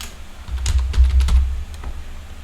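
A name being typed on a computer keyboard: a quick close burst of key clicks for about a second, then a few scattered taps, with no talk.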